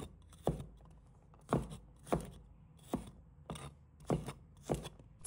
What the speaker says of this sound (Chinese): 再准备1把大蒜，把它切成小块